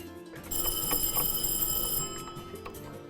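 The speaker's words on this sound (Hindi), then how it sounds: "बजर चेक कर लें अपना अपना" A quiz contestant's buzzer is tested at a studio game segment for an Eid celebration: a loud, sustained electronic ringing tone sounds for about a second and a half, then fades into background chatter.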